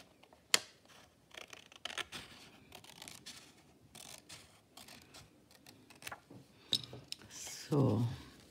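Scissors snipping through a diagonally folded paper sheet while a Christmas card is made: close, quiet cutting and rubbing with scattered sharp clicks, one louder snip early on and a brief rustle near the end.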